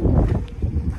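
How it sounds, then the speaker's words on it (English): Strong wind buffets the microphone at a roadside campsite along a Utah highway, a continuous low roaring rumble that fills the whole moment. "We are in the line of the wind"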